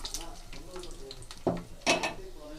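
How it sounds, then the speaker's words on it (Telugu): Peanuts tossed into hot oil for a spiced puffed-rice mix, giving a soft steady sizzle with a few stirring scrapes and two louder clatters of the pan near the end. "ఇప్పుడైతే మనం అందులోకి పల్లీలు అయితే యాడ్ చేస్తున్నాను. పల్లీల్ని మంచిగా ఫ్రై అయితే చేసుకుందాము."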